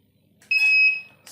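A single electronic buzzer beep from an Arduino pushed by a button, steady and high-pitched, holding for about half a second before cutting off, in a quiet room.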